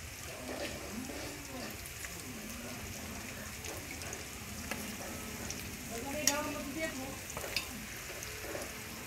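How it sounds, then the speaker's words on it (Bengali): Garlic and ginger paste frying in a pan sizzles steadily at low volume, with occasional stirring scrapes and light clinks throughout. "ভেজে নিচ্ছে। কি দিলে? রসুন বাটা আর আদা বাটা"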